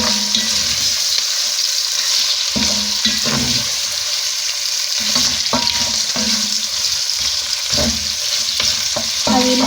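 Beef for Kenyan beef matoke cooks in a pot with a steady, loud sizzle and bubbling, broken by occasional stirring and scraping sounds.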